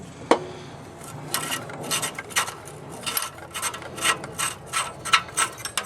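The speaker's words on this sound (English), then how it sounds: "you're going to need two 1-inch open end box end wrenches to get this loose." Wrench ratcheting and metal scraping while loosening a header coupling under a 1996 Chevrolet Impala SS, a run of short rasping clicks and rubs at close range, with no talking.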